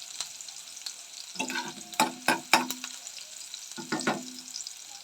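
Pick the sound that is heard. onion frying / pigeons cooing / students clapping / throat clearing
onion frying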